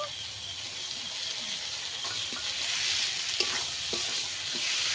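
Spice paste with ground cumin sizzles steadily in a pan for a Bengali aar fish curry, with a spatula scraping and stirring through it in scattered soft strokes, close and continuous with no talking.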